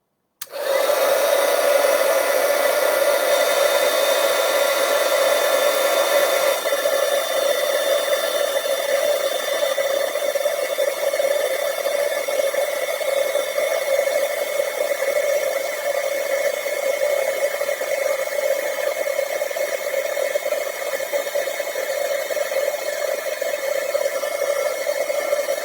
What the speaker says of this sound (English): we're going to grab our heat tool and heat this up until it goes from looking powdery to looking shiny